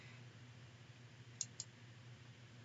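A computer mouse gives two quick, faint clicks in a row over a quiet, steady hum while someone navigates a community website.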